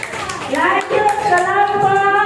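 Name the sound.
class applauding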